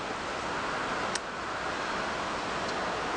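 Steady, broad wash of distant road traffic carrying across countryside beside a public footpath, a continuous low roar with no talking and only a couple of faint ticks.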